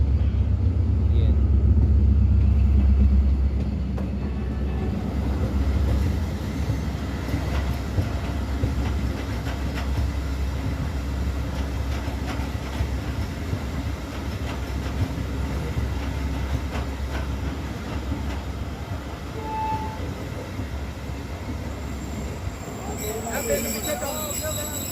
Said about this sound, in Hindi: 34 डाउन पार्क बिजनेस एक्सप्रेस रवाना हो रही है साहिवाल रेलवे स्टेशन से